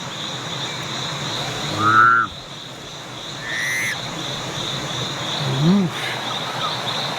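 A few short croaking, whistle-like calls from a frog stand out over a steady outdoor hiss with high insect drone, one near the start and another toward the end.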